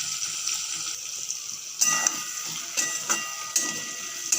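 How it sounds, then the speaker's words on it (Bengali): Taro pieces fry in oil in a pan for a hilsa fish curry, giving a continuous close hiss and sizzle with several sharper crackling pops. "1-2 মিনিট মতন ভালোভাবে লাল লাল করে কচুটাকে আমি ভেজে নেব।"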